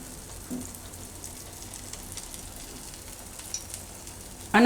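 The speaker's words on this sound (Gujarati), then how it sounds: "તો આને આપણે ઘીમાં પાકવા દેવું" Flatbread frying in ghee gives a soft, steady sizzle close by, with faint crackles and a sharper clatter at the very end.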